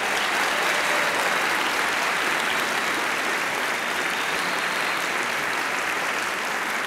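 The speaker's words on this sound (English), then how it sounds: "So if we could get a big round of applause for the Logan family." Dense, sustained applause from a large audience at a live show in Madison, Wisconsin, filling the whole stretch at steady loudness with no talk over it.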